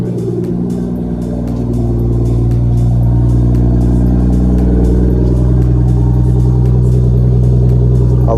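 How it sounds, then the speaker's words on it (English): A BMW 440i with the B58 engine cold-starts, quickly settling into a loud, steady, deep idle roar close by that holds at high volume. "let's give this thing a proper cold start"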